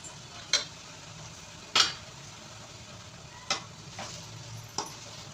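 Cooked drumstick leaves and lentils stirred into fried onions in a pan: a few sharp spoon clacks and scrapes at irregular intervals over a soft, steady sizzle, with no voices.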